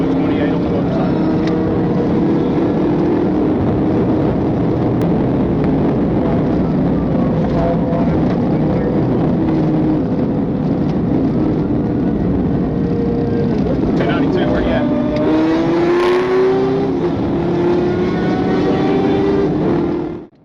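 A motorcycle engine drones loud and steady during a police chase, its pitch rising and falling as the rider accelerates, while a voice talks over the noise throughout.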